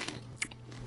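A fortune cookie is bitten and crunched in the game You Don't Know Jack, a single brief, faint crisp bite followed by soft chewing.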